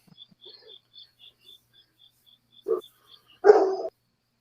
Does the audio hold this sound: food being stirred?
no